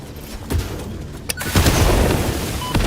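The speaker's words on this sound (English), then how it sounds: "Okay, they can handle 1 explosion." A booming explosion in the factory-building game Satisfactory, with a couple of sharp bangs followed by a loud, rumbling blast that lingers near and full.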